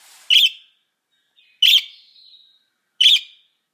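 Pet budgies give three sharp, bright chirps spaced about a second and a half apart, close and loud against silence, with a faint trailing warble after the second call.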